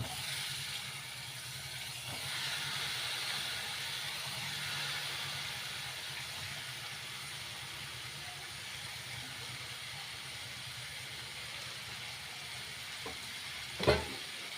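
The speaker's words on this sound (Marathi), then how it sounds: "हे पहा मस्त असं तेल सुटत आहे तर आपण बटाटा आणि वांगे टाकू" Potatoes and eggplant sizzle in hot oil, a steady soft hiss and crackle that stays even throughout, with a single faint click near the end.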